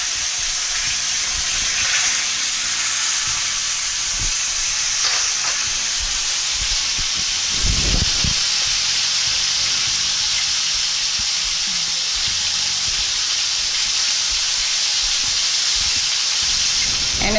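Kroger fish frying in a pan on a home stove set on high, a loud steady hiss and sizzle running the whole time, with a few faint clanks from handling partway through.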